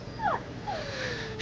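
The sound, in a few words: dog whimpering and crying continuously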